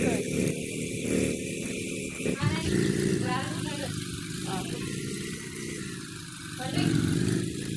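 A motorcycle engine hums steadily throughout, loud and close, with voices talking over it.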